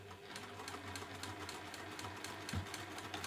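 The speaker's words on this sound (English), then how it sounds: "And you're going to sew across that bottom." A sewing machine stitches across a fabric bookmark, a steady rapid whirring hum with even needle clatter, close and uninterrupted, with a brief thump near the end.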